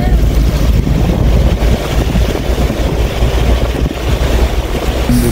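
Loud, continuous rushing floodwater roars close by across a road during a typhoon, with heavy wind buffeting the microphone, a dense, unbroken wash of noise.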